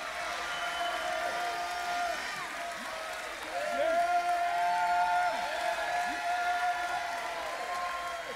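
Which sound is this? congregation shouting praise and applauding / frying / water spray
congregation shouting praise and applauding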